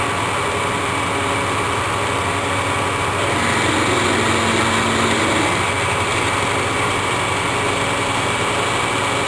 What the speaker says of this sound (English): We'll put the bigger drill bit in.